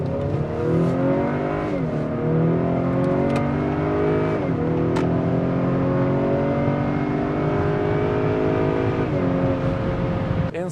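A 2020 Acura RDX engine revs hard and accelerates, pitch climbing steadily before dropping at gear shifts at the rev limiter, repeating several times; loud and close, no voices.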